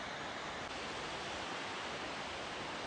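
Gushing stream water in the Gold Coast Hinterland bush, a steady broadband rush that stays constant and close throughout with no voices.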